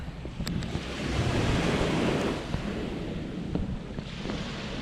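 Ocean surf rolls steadily onto Seven Mile Beach in Grand Cayman, a continuous wash of breaking waves with wind buffeting the microphone, swelling louder midway and easing off again.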